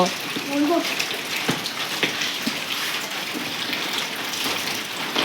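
Steady rain falls nearby in a rural Bangladeshi home setting, a continuous hiss of drops spattering on surfaces throughout.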